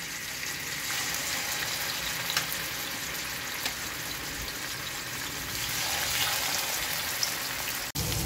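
Green tandoori pieces frying in hot oil in a pan give a steady, close, continuous sizzle and crackle throughout, with a brief sharp tap near the end.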